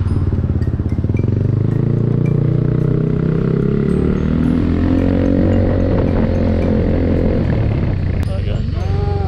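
A Royal Enfield motorcycle engine running close by, a steady low thumping idle with revs rising and falling, continuous and loud, with a voice speaking over it.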